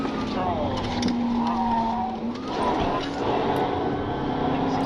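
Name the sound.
muscle car engine roaring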